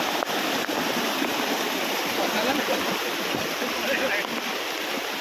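Stream water flows on a hillside path near a hill temple in Wagle Estate, Thane, a steady broadband rush that is close and continuous and covers the whole stretch.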